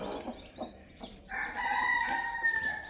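A native country rooster crows in a long, bright call after a few soft clucks from farm hens, heard at moderate distance in a quiet yard.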